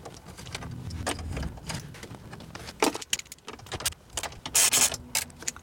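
Keys jangle and metal parts click while the four bolts of a radio go back into the dashboard of a 2011–2016 Porsche Cayenne, a busy cluster of close rattles and taps with a louder burst of jingling near the end.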